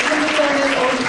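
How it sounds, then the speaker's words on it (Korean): Audience applause after a presenter's talk at a panel discussion, a steady dense wash of clapping that fills the short moment, with voices mixed in underneath. "박수를 보내시고요"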